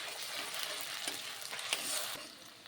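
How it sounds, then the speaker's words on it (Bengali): Onion with ginger paste and garlic paste frying in a pan, a continuous bright sizzle with light stirring scrapes, steady and close, with no talking. "এরপর আমি এর মধ্যে দিয়ে দেব আদা বাটা আর দিয়ে দেব রসুন বাটা, দিয়ে ভালো করে ভেজে নেব।"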